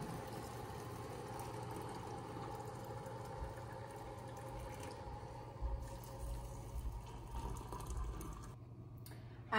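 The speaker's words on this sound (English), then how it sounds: "we're gonna take boiling water and fill up to about the rim" Boiling water is poured into jars of beans being readied for pressure canning, a soft continuous stream filling glass near the rim over a low background hum, ending with a brief clink.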